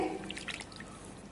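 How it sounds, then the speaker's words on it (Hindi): Lemon juice is poured onto raw chicken for a tikka biryani marinade. It makes a brief, close, wet splash and trickle with a few drips, and no one talks. "सबसे पहले हम चिकन में ये लेमन जूस डाल देंगे"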